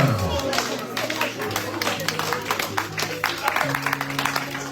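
A church congregation claps steadily and rhythmically while a voice or singing carries over a low sustained musical tone, close and lively.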